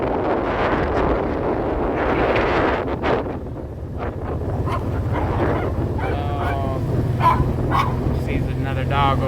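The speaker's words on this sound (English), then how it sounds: "Another dog over here." Dog barking and yipping on a windy beach, short intermittent barks mixed with heavy wind buffeting the microphone, with a person's voice also present.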